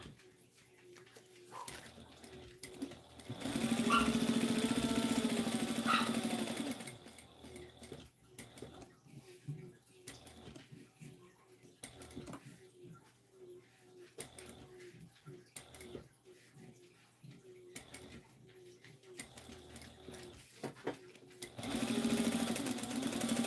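A sewing machine runs in bursts as it stitches fabric, a close rhythmic whir that starts and stops repeatedly, while a dog whimpers and yips in the room.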